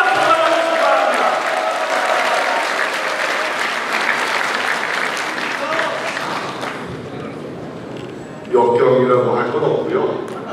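Dense, sustained applause from a large party-convention audience greets lawmaker Jung Jin-suk at a People Power Party South Chungcheong members' rally, dipping briefly before a loud burst of clapping and cheering returns with voices mixed in.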